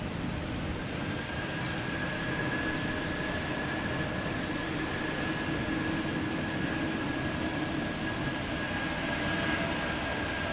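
An Etihad Boeing 787 Dreamliner airliner at Boston Logan Airport gives a steady, moderately distant jet rumble with a faint whining tone, holding even for about ten seconds without talk.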